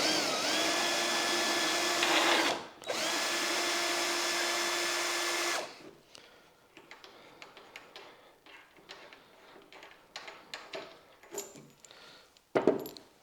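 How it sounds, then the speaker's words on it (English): An electric screwdriver fitted with a 13mm socket whirs loudly in two close bursts while undoing bolts on an OO gauge model railway layout, followed by a scatter of small clicks, taps and rattles of parts being handled. "all I need is electric screwdriver with a 13mm socket on the end"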